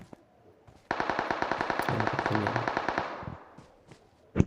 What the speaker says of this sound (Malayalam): ആരോ വെടിവെക്കുന്നു അങ്ങനെ എവിടെ നിന്നാണ് വെടിവെക്കുന്നത്